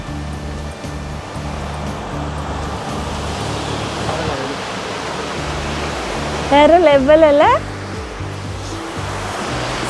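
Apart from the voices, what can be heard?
waterfall flowing below the resort view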